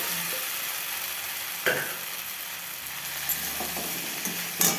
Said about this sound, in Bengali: মশলাটা যে তেল ছেড়ে দিয়েছে এরপর আমি সব সবজিগুলো দিয়ে দেবো